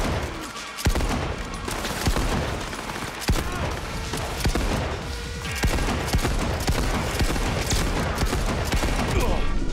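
Rapid bursts of gunfire in Cyberpunk 2077, sharp repeated shots and volleys ringing out through a loud, busy combat mix, with a person talking under the shooting.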